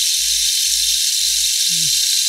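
An African wooden instrument imitates falling rain as a steady, even, high hiss that continues without a break, close and fairly loud, with a brief low sound partway through.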